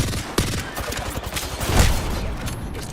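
Rapid gunfire in a shooter video game, close and loud bursts of rattling shots with a sharper crack early on and a heavier thump midway, continuous throughout.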